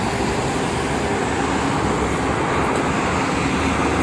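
Heavy truck traffic rolls along the Jakarta-Cikampek toll road in a continuous loud roar of engines and tyres, a dense unbroken wash with no voices.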